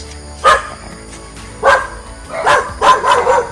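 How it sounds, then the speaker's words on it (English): Several dogs bark from inside a cage during a neighborhood morning walk: a single sharp bark, another a second later, then a quick run of three or four barks, fairly close and loud over faint background hum. "there's dog in the cage."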